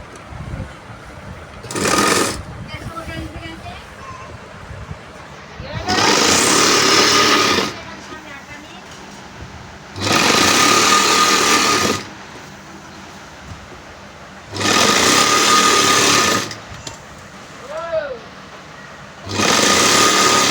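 A sewing machine runs in several bursts of a few seconds each, stitching the folded round hem of a homemade nightie, loud and close, with pauses between runs.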